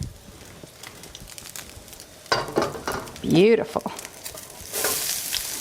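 Two chopped yellow onions and three garlic cloves hit a hot pan for one-pan chicken scampi, setting off a sudden, loud crackling sizzle midway that keeps hissing afterward, with a brief spoken word over it.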